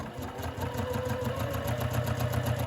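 A domestic sewing machine runs steadily at medium speed, chain-piecing quilt patches along a quarter-inch presser foot edge with a tripod foot fitted, a continuous close whirring hum with no pauses.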